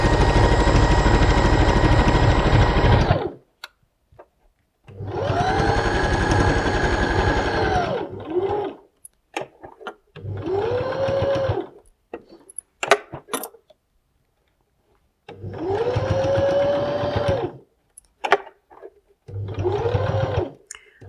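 Sewing machine stitching a seam through several layers of fabric for small bunny pouches, running in five loud bursts of a few seconds each with brief quiet gaps between them.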